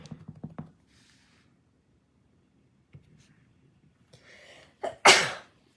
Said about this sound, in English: That is the second week in a row I have sneezed on a video.